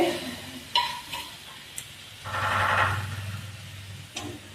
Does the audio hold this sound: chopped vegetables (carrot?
yes